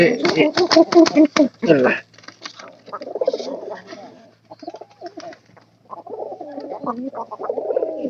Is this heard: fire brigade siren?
no